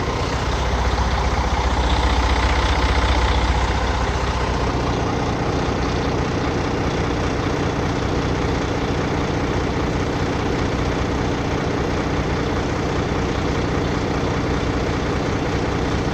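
A truck engine idles while warming up, a loud, steady low rumble up close that runs on without a break, slightly heavier at the start, with no voices.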